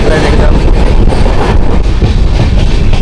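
The Jamnagar Tirunelveli Express pulls into Sangameshwar Road station on the Konkan line with a loud, continuous rumble of carriages and wheels, heard close from on board with wind noise over the microphone.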